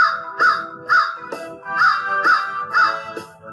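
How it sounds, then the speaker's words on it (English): A crow caws about seven times in a steady, evenly spaced rhythm, each caw harsh, loud and close, with a faint continuous tone underneath. "Big black crow sitting on a tree. What are you squawking about?"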